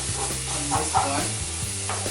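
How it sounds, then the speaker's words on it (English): Creamy bacon pasta stirred in a hot pan, a steady sizzle with soft scraping and spoon movements running throughout, close and fairly loud. "I just want to give it a good mix again."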